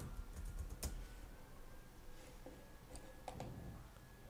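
Quiet typing on a computer keyboard, a few soft key clicks scattered across a short stretch of near silence, with one sharper tap near the start.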